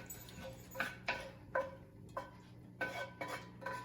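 Spicy beef and broccoli stir fry with carrots and garlic is served into a bowl, giving a handful of quiet scattered clinks and scrapes of a utensil against cookware, close but faint.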